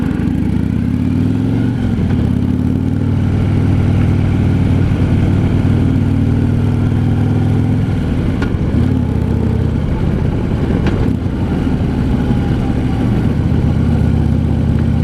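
A 2015 Harley-Davidson Street Glide Standard V-twin engine running on the road with a steady low rumble, loud and close, its pitch shifting slightly as the throttle changes.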